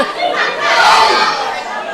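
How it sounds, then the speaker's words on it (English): A wrestling crowd rushes back to their chairs, making a dense, loud roar of shouting and chatter that swells and then eases slightly over a couple of seconds. "The crowd rushing back to get their chairs back."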